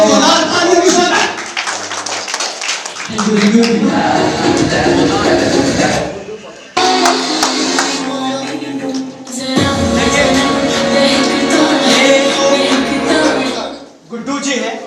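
Loud applause from an audience at an award ceremony in Mahua, Vaishali, Bihar, greeting a guest named Chaudhary. Dense, sustained clapping fills the room in long bursts with brief dips, mixed with voices and other hall sounds.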